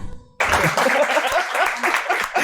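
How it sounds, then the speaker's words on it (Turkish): Studio audience applause breaks out suddenly during a Turkish laugh-or-lose comedy show, a dense burst of clapping that holds steady at close range, with faint voices underneath. "Alkışlıyor."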